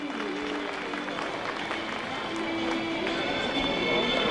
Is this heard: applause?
yes